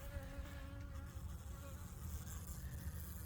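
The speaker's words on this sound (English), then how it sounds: "You can hear some buzzing happening here, but not that many." A few honeybees buzz inside a beehive's honey super during a honey harvest. The buzzing is faint and steady under a low background hum, with no talking.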